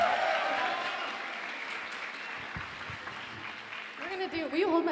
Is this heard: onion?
no